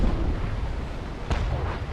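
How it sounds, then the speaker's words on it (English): Ship cannons firing a broadside in the Naval Action naval combat game give a continuous heavy rumble of low booms, with one sharper blast standing out near the middle, all without speech. "he's turning to actually fire a broadside at me"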